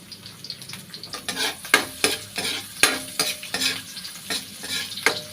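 Garlic sautéing with squid in a pan for adobong pusit with banana blossom, a close sizzle broken by repeated scraping strokes of a spatula stirring at an irregular rhythm, with no talking.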